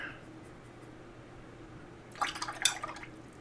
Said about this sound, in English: Clean the brush, add some water.